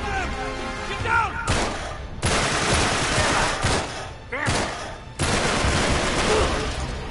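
Heavy gunfire in an Uncharted: Nathan Drake Collection firefight, loud sustained bursts separated by short gaps, with a voice briefly speaking over the shooting.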